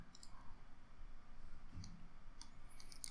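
Sparse, faint clicks from a computer mouse while working in 3ds Max, a few short ticks scattered over a quiet room hum with no talking.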